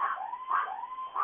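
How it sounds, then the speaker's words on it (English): A dog howls in long wavering tones alongside a siren-like wail, the sound rising and falling in short repeated swells, heard at moderate distance. "Dogs, sirens."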